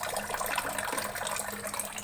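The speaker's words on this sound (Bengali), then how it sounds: "আমি ফিল্টারে জল ভরে নিলাম" Water runs steadily into a household water filter in a home kitchen, a continuous broadband splashing and gushing fill with no gaps, fairly close and even throughout.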